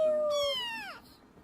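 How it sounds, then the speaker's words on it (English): A cat gives one drawn-out meow with a rising-then-falling wail that trails off near the end, close and clear with no talking. "Meow."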